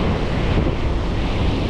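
Strong wind buffets the microphone over rolling surf on a Southern California beach, a loud, constant roar of breaking waves and gusts with no voices.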